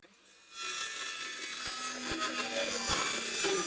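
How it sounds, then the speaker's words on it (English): A thin, inexpensive sheet of material being cut, giving a steady, close rasping hiss that starts after a brief pause and continues without a break, growing slightly louder toward the end, with no voices. "Just mark this in a few places and cut it up."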